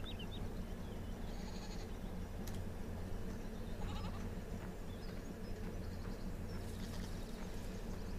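Goats on a Limousin farm, part of a herd of about fifty-five, bleat faintly now and then against a constant background rumble, with no talking.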